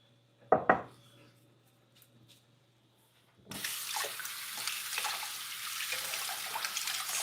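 Running tap water washing something off in a kitchen sink while cooking a vegan dinner: a short clatter first, then a steady, close rush of faucet water that continues to the end.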